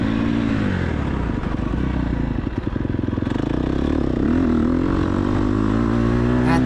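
An off-road vehicle's engine revs hard in second gear on loose dirt and rocks, a loud, steady, close roar with rattling clatter and slight rises in pitch throughout.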